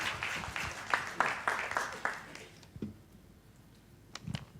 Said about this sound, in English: please give a warm round of applause to UC Talent